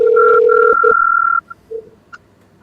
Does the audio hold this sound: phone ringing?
yes